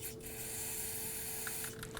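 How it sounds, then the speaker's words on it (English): Spray solvent hisses from a can onto a rubber fuel tank hanger on a 2005-2009 Subaru Legacy 2.5L H4, a steady close spray holding throughout, with a few faint taps near the end. "Sometimes spraying the rubber down with some spray solvent"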